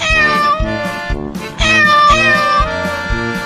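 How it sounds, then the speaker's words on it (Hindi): A cat and kittens meow in a cartoon, loud, close meows repeated in a quick series against a rhythmic music backing. "वो देखो, बिल्ली अपने सभी बच्चों को हमारे घर लेकर आई है"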